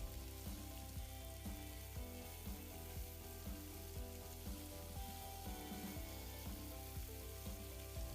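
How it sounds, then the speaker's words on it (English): Onions fry in a pan for fried rice with a faint, steady sizzle and a regular ticking, bubbling texture, heard alone without voices. "Then you add in your onions. Allow it to cook for a little while."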